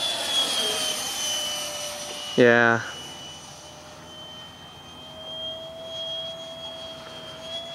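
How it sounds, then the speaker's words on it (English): An RC model F9F-2 Panther jet makes a pass, its steady high turbine whine sustained and moderately loud throughout, rising slightly toward the end, with a brief spoken word partway through. "Flies really nice, and it flies like an actual jet."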